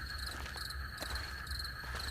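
Dense, steady chorus of crickets chirping at night, high trilling tones layered over a low hum, close and continuous.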